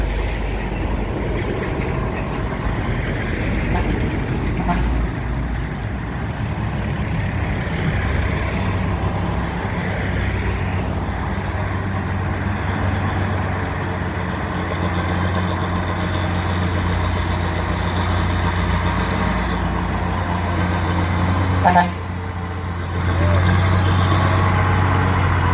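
A fully loaded Fuso truck's diesel engine runs steadily while maneuvering in reverse, a constant low rumble lasting the whole stretch, with a brief clunk near the end and no talking.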